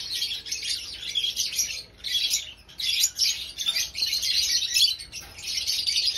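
African lovebirds, including dun, pale and bronze fallow birds, chirp and tweet continuously in an aviary, a dense, bright flock chatter with brief swells and dips and no voices.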